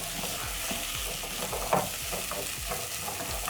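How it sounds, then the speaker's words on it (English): Medium carrots being stirred into a frying pan, with a constant sizzle and repeated scraping and clicking strokes of the stirring, close and busy, no voices. "So next I'm going to be adding carrots."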